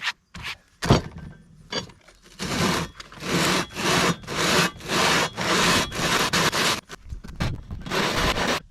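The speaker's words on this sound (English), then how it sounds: "I got this sanding belt." A sanding belt grinds against a worn manifold from an Allis D17 Series IV tractor in bursts of harsh, raspy abrasion, roughly a dozen strokes separated by short pauses, loud and close, with no talking.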